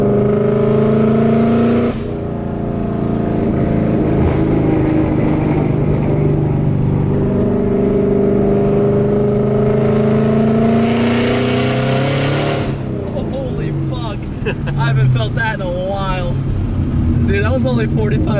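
A Ford Mustang with a 5.0 Coyote V8 running on E85 revs loudly up and down in long sweeps up to about 4,500 RPM, close by, with people talking over and between the pulls.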